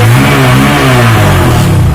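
Honda Verza fuel-injected motorcycle engine running loud and close, a steady throaty drone with mild revving swells throughout, no voices.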